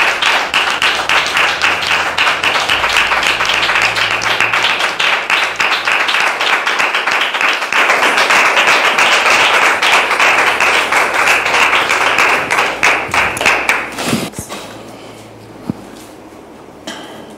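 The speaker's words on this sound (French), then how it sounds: "Public, merci de les recevoir ici maintenant sous vos applaudissements." Studio audience applause on a French talk show, loud dense clapping sustained for about fourteen seconds before cutting off, leaving a quiet room with faint shuffling.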